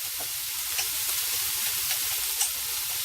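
Degreased meat sizzles in a pan for stuffed portobello mushrooms, a steady close frying hiss with faint pops and a stir or two, no talking.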